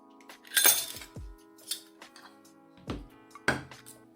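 A delicate, shiny hard drive platter disc clinks as it slides off its spindle: several separate glassy chinks and light knocks, close and fairly quiet, spaced across a few seconds with no talking.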